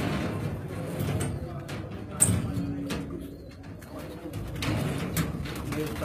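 Pigeons of a golden, old peacock-type breed coo in low, soft murmurs with a few brief chirps, fairly close, over a busy outdoor background of rustling and faint talk.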